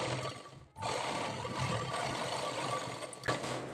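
A sewing machine runs steadily while stitching piping on a blouse back neck, a close continuous motor whir with a brief pause near the start and a small bump near the end.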